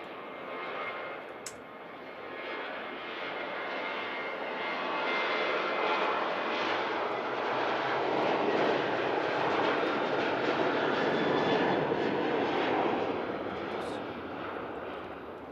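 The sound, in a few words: Ryanair Boeing 737 jet departing Manchester Airport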